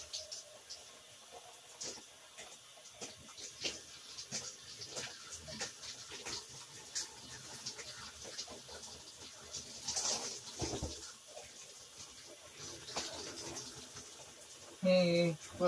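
A shower runs steadily while someone rinses, a faint, even hiss of falling water lasting throughout with a few small knocks and a brief louder sound at the end.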